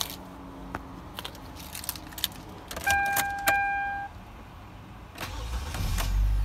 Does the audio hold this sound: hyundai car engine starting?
yes